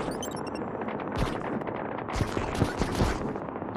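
Rapid bursts of shooting from the retro defense shooter game Utopia Must Fall. Dense, crackling volleys swell in loud clusters over a steady noisy game backdrop.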